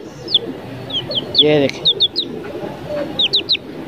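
Chickens and chicks at a breeder chicken farm give short, high peeping chirps and a brief louder cluck, close by, with someone speaking briefly among them.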